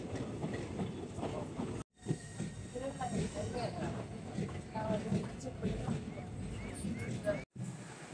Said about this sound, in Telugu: ఇదిగోండిగా ట్రైన్ వచ్చేసింది.